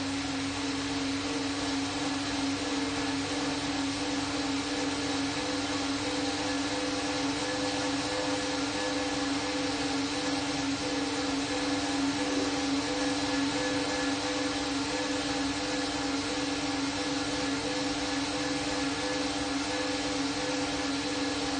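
Steady mechanical whir of an indoor bike trainer under pedaling at roughly 85 to 90 RPM, a continuous even hum with a constant tone, close and moderately loud with no talking throughout.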